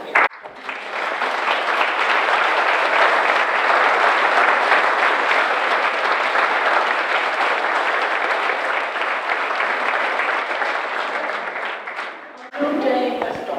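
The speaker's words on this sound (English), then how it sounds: "Would all of you please stand for applause?" A standing audience at a library donor event claps loudly and continuously for about twelve seconds, dense and even, before it abruptly cuts off and a voice begins speaking.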